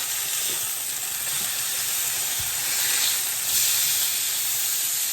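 Steady, loud sizzling of steak frying in a hot pan, a continuous bright hiss with small pops and surges, no voices.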